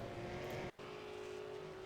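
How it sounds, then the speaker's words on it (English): A V8 Supercar in a racing video game drops gears on the Miami road course, its engine note holding a steady high whine before cutting out for an instant on the downshift and then returning, faint in the mix. "Looks like it was just too much engine braking on the downshift."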